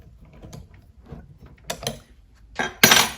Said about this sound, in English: I can just wind this pedal around so it tightens into the crank.